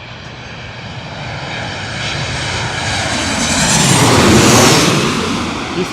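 A Southwest Boeing airliner from Chicago passes at LaGuardia Airport in Queens, New York, a loud continuous jet roar that swells to a peak and then begins to fade, with no talk over it.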